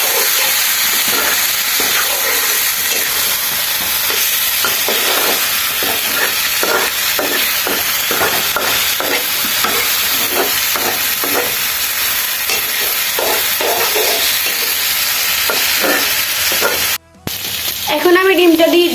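Hand-cut vegetables for noodles are stir-fried in a hot pan, a loud continuous sizzle broken by repeated scraping stirs. The sound cuts out briefly near the end, then resumes.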